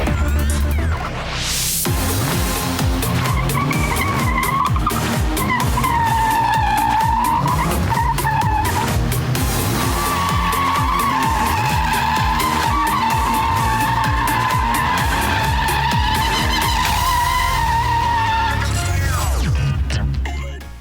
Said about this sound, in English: while steering into the curve, the moment he slightly accelerates, the tail starts drifting